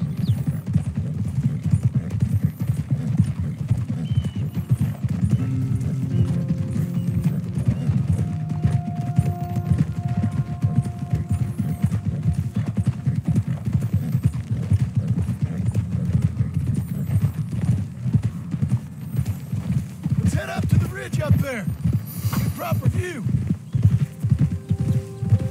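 Horse hooves clip-clop steadily in Red Dead Redemption 2, a continuous low rhythmic thudding with a brief whinny-like burst near the end and someone talking over it at times.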